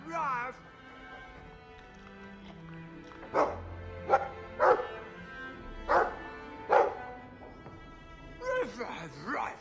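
In the Dragon Age 2 video game, a Mabari war dog barks in a rhythmic series of five or six clear, close barks, followed by a brief whimpering yip, over quiet game background with some voiced sounds.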